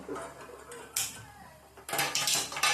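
A metal tawa griddle is set down on a gas stove, with scattered clanks and scrapes of metal on metal, close and moderately loud, among quieter kitchen handling noises.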